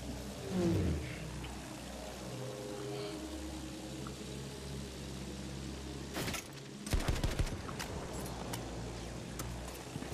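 Gunfire in Battlefield 1 during a sandstorm, with an AA gun in play: a low rumbling ambience and a descending whine, then sharp bursts of close shots clustered around the middle and scattered cracks after.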